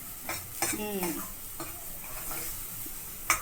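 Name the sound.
masala spices roasting in oil for mutton curry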